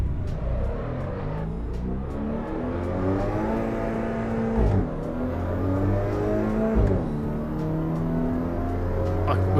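A race car in Assetto Corsa Evo revs hard through its gears, engine pitch climbing and dropping with each quick flat upshift, loud and continuous with a driver talking over it at times.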